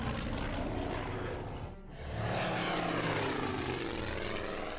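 Aircraft engines drone loudly during a bombing run in the strategy video game Order of Battle, a continuous propeller roar that dips briefly mid-way before surging back, with no talk over it.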